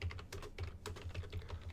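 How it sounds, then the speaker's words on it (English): Steady rapid typing on a computer keyboard, a dense run of light key clicks and taps at close range, fairly quiet and with no talking. "So I'm just typing this in."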